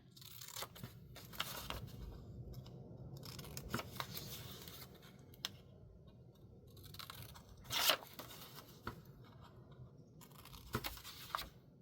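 Scissors snipping and trimming paper for a junk journal mini envelope belly band, a series of close, crisp cuts and rustles with one sharper snip partway through, no talking.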